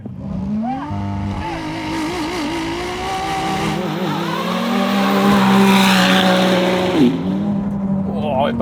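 Ferrari 296 GT3 race car on wet tyres and Ferrari 296 GTB road car launch side by side on a damp surface, engines revving hard with tyre squeal and wheelspin, the loud roar climbing steadily as a voice talks over it.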